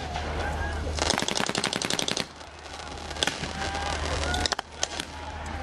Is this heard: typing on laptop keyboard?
no